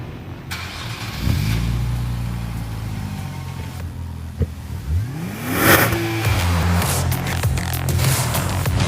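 Nissan 400Z Proto engine starting up and idling, then revving with a rising and falling exhaust note, close and steady with a few sharp blips.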